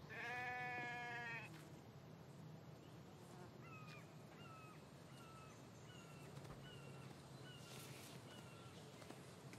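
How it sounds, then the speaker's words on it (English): A sheep in the survival video game The Infected lets out a single wavering bleat at the start, then quieter chirping cries repeat over a soft ambient background. "There's a sheep."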